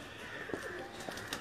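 Lakha pigeon giving soft, brief coos over a faint background hum, with a couple of low throaty notes in quick succession.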